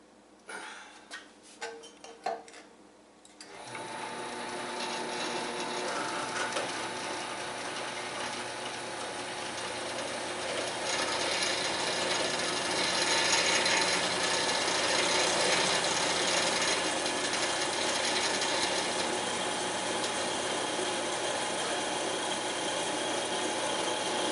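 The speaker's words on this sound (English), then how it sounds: "all I'm going to do is just start walking it through the vise and drilling holes" Power drill with a 1/4 inch bit boring holes in a workpiece held in a vise: a few short clicks, then a steady loud whirring grind that holds for the rest of the clip with no speech.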